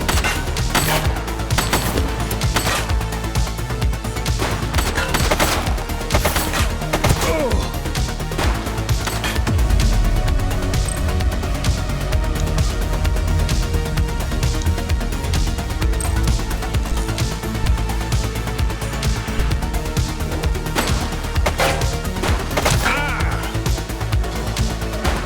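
Gunfire in The Precinct video game sounds as a dense, loud series of sharp shots and bursts, with some close cracks and rapid volleys layered over continuous game noise and music for the whole stretch.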